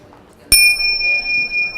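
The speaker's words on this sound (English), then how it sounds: "I'll ding my bell so you know when to swap over." A single bright ding from a handheld bell, rung during a coaching exercise to signal swapping roles. It strikes sharply and then rings on as a sustained tone that slowly fades.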